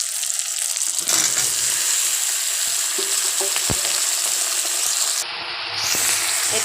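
Brinjal pieces fry in a pan with tomatoes and chillies for a dry fish curry, a constant close sizzle broken by spatula scrapes and knocks as they are stirred.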